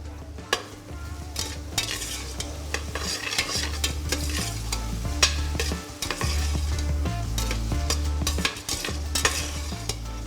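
Ratatouille vegetables, courgettes among them, sizzle steadily in a hot pan while a spoon stirs them, making repeated scraping and clinking strokes at close range over a continuous frying hiss with no speech.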